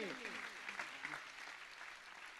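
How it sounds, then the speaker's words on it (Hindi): Crowd at a Jain initiation ceremony in Delhi applauding, steady clapping from many people heard at a distance and fairly quiet, with a voice speaking briefly over the opening before it fades out. "जोरदार तालियां बजाइए"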